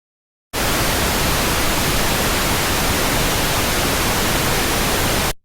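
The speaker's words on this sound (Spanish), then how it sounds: "Piensen en un ruido rosa como todas las frecuencias del espectro audible sonando en forma simultánea." Steady pink noise test signal: a loud, even broadband hiss that starts abruptly, holds unchanged for about five seconds, then cuts off, heard alone.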